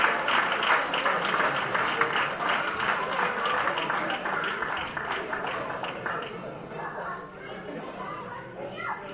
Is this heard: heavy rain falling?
no